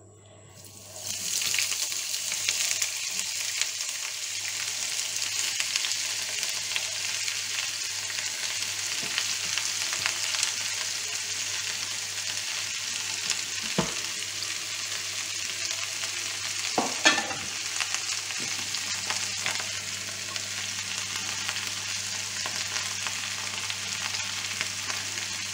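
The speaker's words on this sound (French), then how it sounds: "Et là, maintenant, on met tous nos légumes." Julienned vegetables fry steadily in a hot pan, a continuous bright sizzle with occasional scraping stirs and clinks, close and even throughout.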